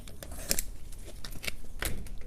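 Excess wrap material is trimmed from a promotional mini fridge with a blade, giving a rapid series of close, crisp cutting and scraping snicks over steady background noise.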